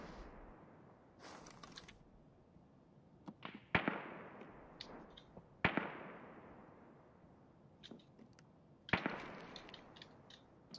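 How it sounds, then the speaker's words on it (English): Sniper scav gunfire in Escape from Tarkov: a few sharp, distant cracks spaced several seconds apart over a steady ambient hiss, with smaller pops and clatter between them and no voices. "Is sniper scav shooting at somebody looting the box?"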